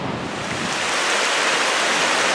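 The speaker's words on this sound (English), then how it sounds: "there it is, the waterfall made by way of a Civil War era dam." A waterfall spills over a Civil War era dam, a dense, steady roar of falling water that fills the space evenly, with no one talking.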